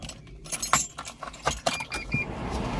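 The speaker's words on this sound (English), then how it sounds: "Keys." A set of car keys jangles and clinks in several quick bursts beside a Smart Roadster, sharp metallic rattles close by with low road-like rumble beneath.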